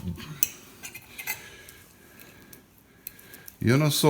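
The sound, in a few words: knife cutting grilled provoleta cheese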